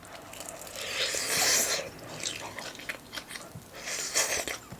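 Crispy fried chicken (Kwasak King) crunches loudly as it is bitten and chewed up close, with several crackling crunches followed by softer chewing.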